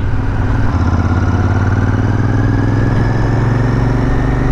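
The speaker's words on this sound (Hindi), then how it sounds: "पूरे एक साल बाद इस मोटरसाइकिल को मैं चला रहा हूँ, यानी लॉन्ग राइड पे" A motorcycle engine idling steadily at close range ahead of a long ride, a loud, even low rumble with constant pitch and no talk.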